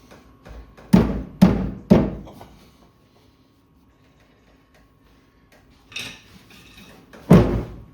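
A petrol tank is fitted into a 1969 Triumph Vitesse under restoration: several loud, close thunks and knocks in quick succession, a pause of near silence, then two more bangs as the tank is worked into place.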